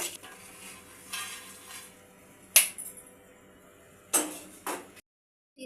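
Prawns frying in a pan and being lifted out: a low sizzle under a few sharp metallic scrapes and clinks of a utensil against the pan, close by, ending in brief silence.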